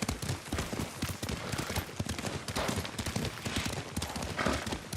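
Horse hooves clip-clop in a fast, steady rhythm while riding in the Ghost of Tsushima video game, close and continuous with faint background noise.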